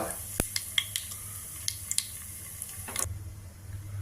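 Fenugreek, mustard seeds and asafoetida frying in hot oil as a tempering: a steady close sizzle with scattered sharp pops and spatters, plus a few utensil clinks and stirring scrapes.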